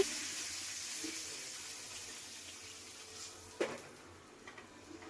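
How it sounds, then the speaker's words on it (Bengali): A mug of water pours into a pan of low-oil fish curry as a soft, faint, continuous wash, with a brief splash or knock near the end. "এবার দিয়ে দিলাম পানি,"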